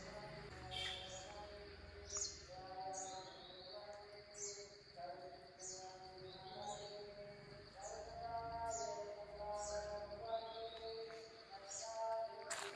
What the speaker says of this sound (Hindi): पक्षियों की आवाज़, प्रकृति की आवाज़ सुनते रहो।